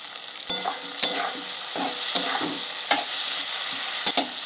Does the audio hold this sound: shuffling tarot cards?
no